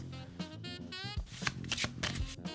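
A deck of cards is riffled and shuffled several times in quick, crisp bursts, close by, while a voice hums or murmurs faintly underneath.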